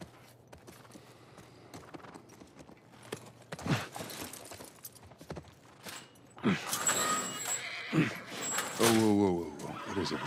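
A horse in the video game The Last of Us Part 1, with hoof clip-clop under game ambience and faint voices, then a loud, close whinny rising toward the end.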